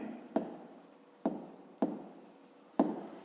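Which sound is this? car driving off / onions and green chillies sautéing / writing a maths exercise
writing a maths exercise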